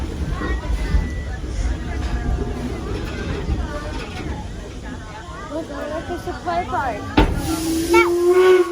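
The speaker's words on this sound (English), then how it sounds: "There's the whistle." Steady steam hiss and crowd chatter fill a station during a Torch Lake train ride, then a sharp steam train whistle blast rings out near the end over the hissing.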